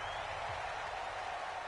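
A large, raucous crowd roars steadily at a Colts vs Raiders football game. The noise is a dense, continuous stadium wash of cheering heard from within the stands, with no gaps.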